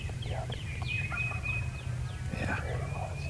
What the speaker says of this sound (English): There's a whole bunch of birds gobbling just like there were last night.